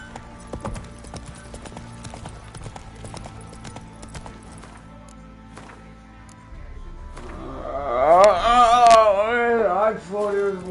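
Roach the horse trotting in The Witcher 3, a steady clip-clop of hooves under ambient game sound and music, with a whinny near the end.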